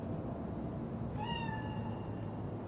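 A single drawn-out cat meow in Cyberpunk 2077 rises out of a steady low ambient hum, faint and fairly distant, lasting about a second.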